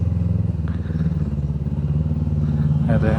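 A motorcycle rides along a shortcut road between Lembang and Ciwidey, its engine droning steadily and close throughout, with a voice talking over it near the end.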